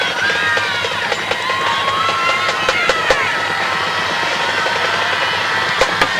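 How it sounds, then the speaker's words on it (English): A crowd cheers at a night-time high school football kickoff between Magnolia and Monroe Central in 1998. The roar holds steady, with sharp whistles and shouts poking through, and the sound of a large stand fills the air. "a very nice crowd on hand on a beautiful night"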